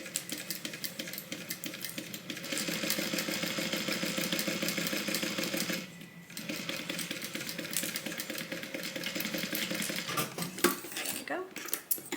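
A sewing machine stitches clipped pieces of a Soraya divider bag, running in steady rapid bursts with a short pause midway and a brief stop near the end.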